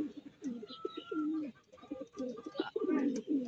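Racing pigeons cooing at a club training loft, with several soft, low rolling coos repeating close by and overlapping, and a faint voice in the background.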